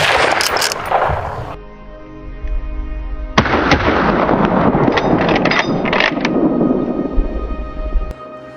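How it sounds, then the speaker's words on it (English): Gunfire at wild boars during an early winter hunt, with several loud, sharp, booming shots in a ragged volley close by, each followed by a long rumbling echo that fills the air between blasts. "We were not slower, quickly pulling the trigger. In the first volley, one boar collapsed."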